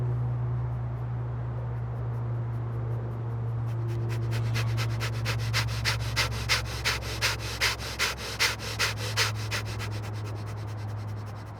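Pranayama breathing builds from a soft, slow flow into a quickening train of sharp rhythmic exhales, rising in speed like a wave over a low steady hum, close and alone.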